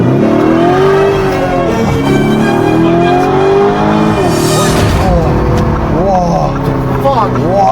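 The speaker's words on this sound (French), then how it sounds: "Unchained était pour l'instant uniquement impressionné par le bruit du moteur" A luxury car's engine roars loud and close under hard acceleration, with rising and falling revs, while excited voices talk over it.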